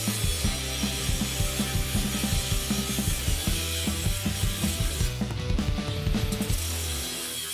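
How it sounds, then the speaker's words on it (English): An angle grinder cuts angle iron marked at 45 degrees for a welded electrical and battery tray on a Honda CB750 cafe racer, a loud, continuous metallic whine and grinding roar with rhythmic bumps throughout. "Using an angle grinder, we cut the pieces."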